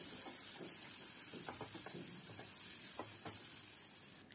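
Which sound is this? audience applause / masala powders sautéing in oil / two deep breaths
masala powders sautéing in oil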